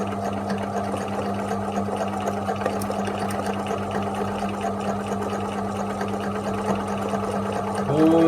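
A sewing machine running steadily for free motion embroidery, a loud close continuous mechanical hum and rapid needle chatter as fabric is moved by hand, with a brief change in pitch at the very end.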